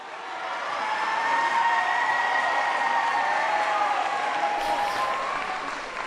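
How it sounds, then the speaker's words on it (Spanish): A large crowd in a cathedral courtyard, including children from Italy, Spain and Poland, gives a sustained, distant wash of applause and cheering that holds steady throughout. "lo reciben con un aplauso"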